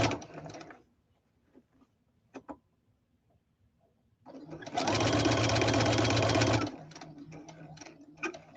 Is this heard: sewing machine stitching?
yes